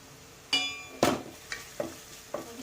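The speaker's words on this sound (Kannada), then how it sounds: "ಈ ಪೌಡರ್ ಎಲ್ಲ ಹಾಕಿದ್ಮೇಲೆ ಸ್ವಲ್ಪ ಹೀಗೆ ಫ್ರೈ ಮಾಡ್ಕೊಳ್ತೀನಿ" Egg rice with coriander powder is stirred and fried in a pan, a faint sizzle broken by several sharp scraping clinks of the spatula at irregular intervals.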